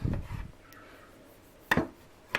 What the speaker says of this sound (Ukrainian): ось так такими, ну, скибочками, можна сказати, ріжу помідорку